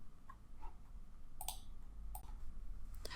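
A few sharp, faint mouse clicks land on a software Create button, isolated ticks spaced over a quiet background with no talking.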